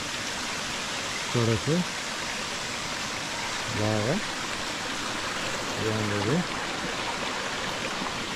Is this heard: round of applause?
no